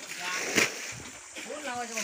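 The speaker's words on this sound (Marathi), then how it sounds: "उपसायचं काम चालूच आहे" Water splashes and sloshes as a pond is bailed out by hand to catch fish, a steady churning wash with a sharper splash near the middle and a voice-like murmur underneath toward the end.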